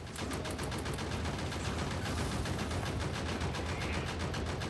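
Automatic gun turrets firing at biters in the factory-building game Factorio, a continuous rapid rattle of game gunfire that holds steady and loud throughout with no voices over it.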